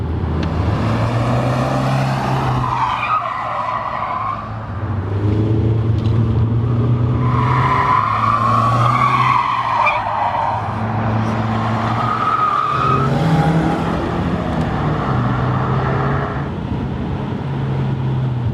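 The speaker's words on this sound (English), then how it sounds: "This car absolutely loves being sent round roundabouts, and I'll demonstrate that now." An Audi TT quattro is driven hard around roundabouts, its engine droning loud and close as the tires squeal in long, rising and falling wails across several bends.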